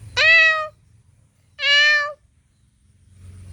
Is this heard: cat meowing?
yes